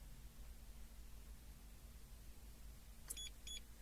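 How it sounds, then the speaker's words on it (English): Two quick double bleeps from a Starline i96v2 immobiliser fitted to a 2016 VW Passat as it leaves valet mode, short, bright and close, arriving near the end over a steady low engine hum. "Got 2 double bleeps telling us it's now out of valet mode."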